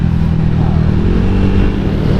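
A motorcycle engine screams at around 9,000 rpm during a performance test of a rebuilt engine, a loud, sustained, steady high-revving drone with no breaks.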